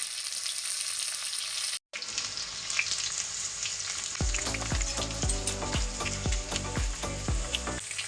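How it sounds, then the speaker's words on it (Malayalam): Garlic and ginger drop into hot oil for a turkey berry pickle, with a steady loud sizzle that briefly cuts out, then returns with denser crackling and sputtering. "ഇനി നമ്മൾ വെളുത്തുള്ളിയാണ് ഇട്ട് കൊടുക്കുന്നത് ഇനി ഇഞ്ചി ഇടുന്നു"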